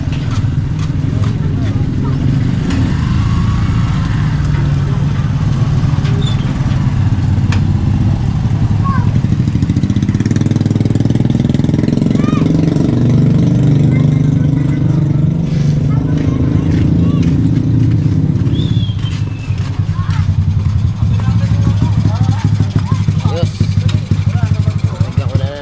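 Motorcycle engine running steadily throughout, a continuous low rumble with loud constant level, with people talking over it.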